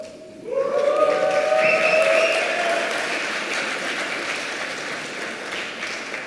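An audience at a London Web3 and crypto conference bursts into applause, rising quickly to a loud, dense clapping that slowly fades while a faint tonal ring sounds over it.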